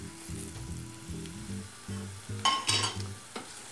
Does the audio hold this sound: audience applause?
no